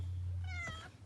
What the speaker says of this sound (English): Look out, kitty.